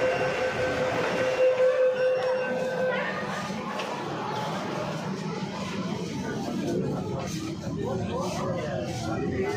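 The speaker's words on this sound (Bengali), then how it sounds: "Welcome to under water metro." A Kolkata underwater metro train runs between Howrah and Esplanade, a loud rolling rumble with squealing wheel tones that fade as it moves along, with voices talking over it.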